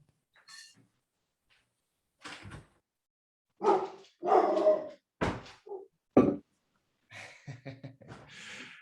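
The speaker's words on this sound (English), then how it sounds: "my dog is gonna start barking because we also have somebody here" A dog barks in several short bursts, fairly close, with breathy pauses and quiet gaps between them.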